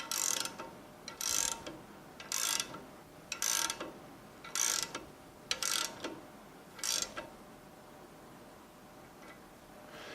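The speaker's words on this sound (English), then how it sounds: "To install the rubber boot, you need to tighten it down to 8 Newton meters." A ratchet tightening the rubber boot on a Knorr-Bremse SB7 air disc brake to 8 Nm, seven quick bursts of clicking at a regular pace, each about half a second long, then quiet.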